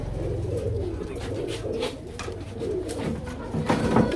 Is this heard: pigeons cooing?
yes